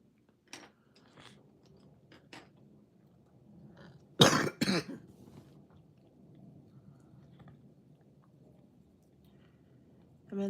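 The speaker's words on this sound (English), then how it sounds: "I mean, this cough is terrible." A few sharp, harsh coughs burst out close and loud in a quiet room, a short raspy cluster standing out against faint background rustle.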